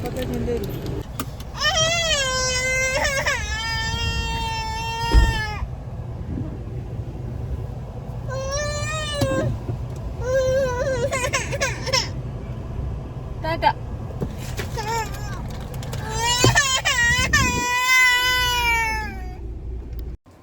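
A baby girl crying in a car, loud wavering wails in several bursts with pauses between, while a car hums underneath and adults talk briefly.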